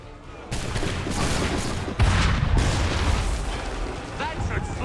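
Gunfire and heavy booms from the video game Assassin's Creed 3 Remastered, dense and continuous with a loud blast partway through, battle noise layered under occasional talk.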